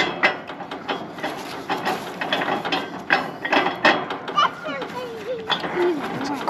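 A propane tank being screwed onto a camping fitting gives off ratcheting metallic clicks and scrapes at close range, mixed with people talking and children's voices nearby.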